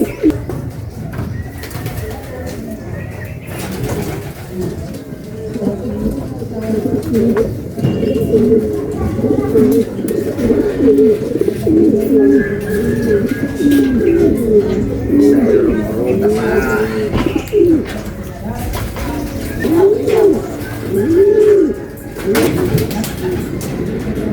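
Racing pigeons coo in repeated soft, rolling phrases close by, with people talking intermittently over the birds.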